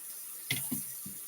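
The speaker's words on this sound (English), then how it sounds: "I'm going to rinse the sink and this strainer" Tap water briefly splashes into a greasy kitchen sink and strainer during a rinse, three short bursts of running water close by and fairly quiet, with no talking.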